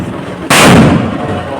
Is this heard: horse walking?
no